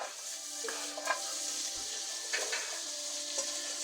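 Peppers sizzle steadily in a pan over a flame, with soft scraping clicks as they are tossed and stirred, close and fairly quiet, no talking.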